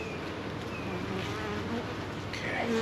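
Honey bees swarm around an opened beehive, making a dense, continuous close buzz with no break throughout.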